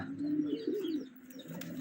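Pigeons cooing softly in low, rolling murmurs, with faint chirps and a little background noise.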